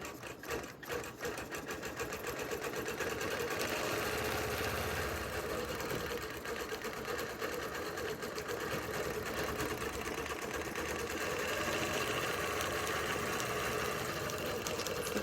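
An embroidery sewing machine stitches out a design with a steady, fast, continuous mechanical chatter that runs unbroken for the whole stretch, close and even in loudness, with no talking over it.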